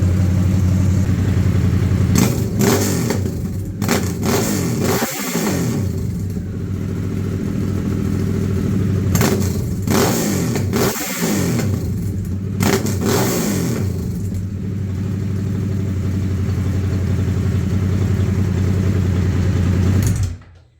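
A 2023 Harley-Davidson Sportster S fitted with an aftermarket exhaust revs hard several times, each blip rising and falling back to a deep idle, loud and close throughout with no voices.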